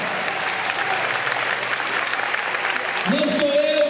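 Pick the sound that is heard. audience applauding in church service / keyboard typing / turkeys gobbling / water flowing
audience applauding in church service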